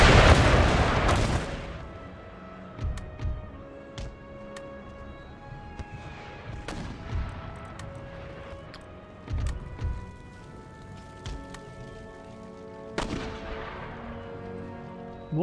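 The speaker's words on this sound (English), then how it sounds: "now all the mortars are firing." Mortars in Empire Total War fire in scattered heavy booms, several muffled thuds spaced across the battle with a sharp blast at the start and another near the end, over a low ambient rumble.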